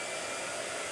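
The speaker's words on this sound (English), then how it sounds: "Blow dryer. Hold on a second." A blow dryer runs steadily with a loud, even broadband whoosh that fills the whole moment alone, without any voices.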